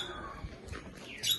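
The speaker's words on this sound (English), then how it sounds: "I don't want the birds to land on my head and then take out my earrings." Parrots at a wildlife park give a few short chirps and squawks, faint and brief, with a brighter call rising at the end.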